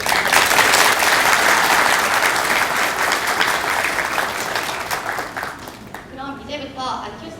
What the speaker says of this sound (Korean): 함께하고 계신 청년들께 힘찬 박수 한번 부탁드립니다